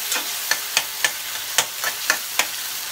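Fish frying lightly in a pan, a bright hissing sizzle with regular stirring taps or scrapes about every half second, close and moderately loud.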